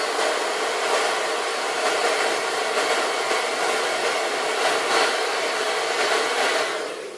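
A hair dryer blows acrylic paint dry on a mixed media painting, a loud, steady close-up whoosh that runs without a break for about seven seconds before tapering off at the end.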